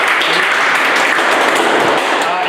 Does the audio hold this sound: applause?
yes